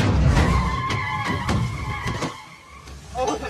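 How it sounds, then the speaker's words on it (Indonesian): In a film scene, a speeding sedan skids with loud, close tire squeals and screeching engine noise, the skid rising and falling before a final surge as it hits a woman. "Tiba-tiba sebuah sedan melaju kencang dan menabrak Alice"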